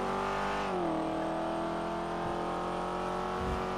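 Car engine in GTA RP on NoPixel, revving steadily under aggressive driving, a loud continuous drone with a pitch dip near the start, alone without talk.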